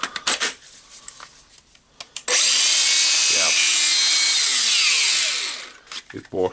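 Makita 18V cordless angle grinder spinning up after a carbon brush holder repair, a loud sustained whine rising at start-up, holding steady for about three seconds, then winding down, with brief handling clatter before and after.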